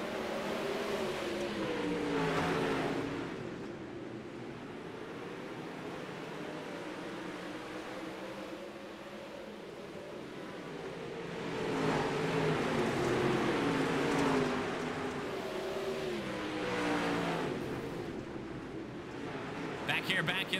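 Fifteen race cars run the 12-lap B main at Indianapolis, their engines droning and rising and falling in pitch as they pass, under a commentator's voice.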